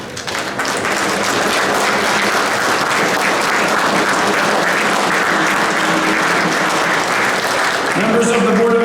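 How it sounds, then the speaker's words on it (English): A room full of people applauds steadily as Board of Education members walk in at a town inauguration ceremony, the clapping loud and sustained throughout with crowd murmur and voices mixed in beneath. "Please give them a nice round of applause as they enter the room."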